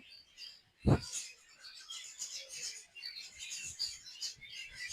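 Small birds chirp faintly in a tree behind a church, scattered high tweets over a quiet outdoor background, with one brief low thump early on.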